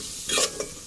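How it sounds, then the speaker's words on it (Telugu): Onions stirred and frying in oil over a high flame for raw banana curry, giving a short burst of scraping and sizzling with a sharper clink at the end. "ఉల్లిపాయలు వేసుకొని ఉల్లిపాయలు కూడా బాగా కలుపుకొని"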